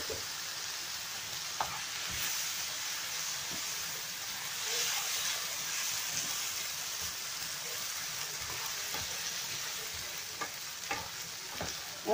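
Chopped tomatoes fry in a pan for spaghetti bolognese sauce, a continuous close hissing sizzle with occasional stirring scrapes and small knocks, steady throughout with no talking.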